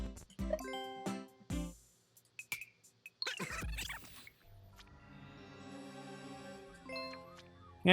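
Bright notification chimes on a livestream ring out in short tinkling bursts with gaps of quiet between them, followed by a longer shimmering jingle near the end.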